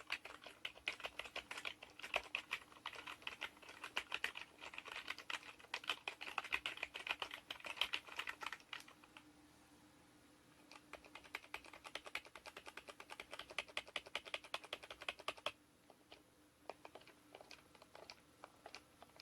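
Rapid, soft typing on a Microsoft Wireless Ergonomic Keyboard 5000 membrane keyboard clatters steadily, pausing briefly midway before resuming. The keystrokes are muted and close.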